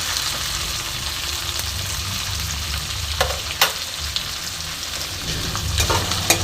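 Fish head and malabar spinach with potatoes frying in oil in a pan, giving a steady close sizzle with a few sharp crackles and stirring clicks throughout.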